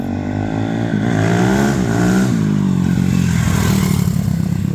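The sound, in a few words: Cannondale X440 big bore four-stroke motorcycle engine running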